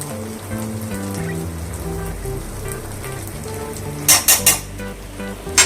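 Chilli chicken fries in a pan as chilli and tomato sauce are stirred in: a loud, continuous sizzle with some low background tones, then a quick run of sharp clanks from a utensil on the pan near the end.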